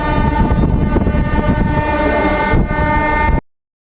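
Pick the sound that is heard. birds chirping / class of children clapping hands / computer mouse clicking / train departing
train departing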